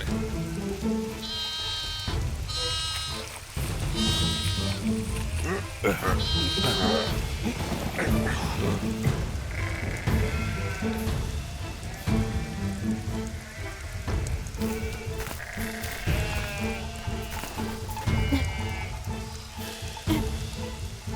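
A lamb bleating repeatedly in short, high cries amid steady heavy rain, close and fairly loud, with the bleats recurring irregularly over the downpour.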